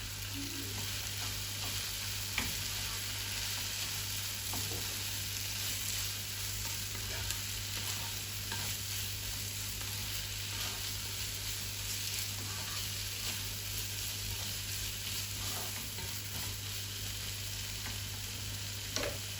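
Fish frying in a pan, a steady close sizzle running the whole time with faint scattered clicks, no voices.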